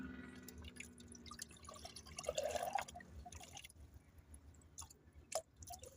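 Water is measured out and poured into a container in brief, quiet splashes and trickles, with scattered drips between pours and no talking.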